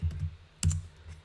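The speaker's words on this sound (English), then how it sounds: "I was literally typing it in" Computer keyboard typing in a few quick clustered clicks, with a louder burst of keystrokes midway, close and fairly quiet with no talking.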